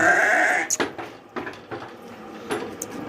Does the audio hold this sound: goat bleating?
yes